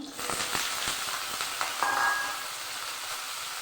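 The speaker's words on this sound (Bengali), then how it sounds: "দিয়ে দিচ্ছি কেটে রাখা আলু," Cut potatoes hitting a pan of hot ghee, giving a close, steady sizzle and crackle with a few sharp spits near the start, then settling into an even fry.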